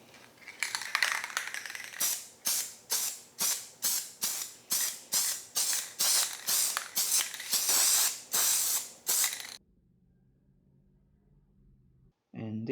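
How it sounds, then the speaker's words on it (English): A rapid series of about seventeen short, loud spray-paint bursts coats a Massey Ferguson 231 tractor power steering control valve, evenly spaced hisses close by, followed by near silence and a faint click at the end. "And now I'm gonna paint it."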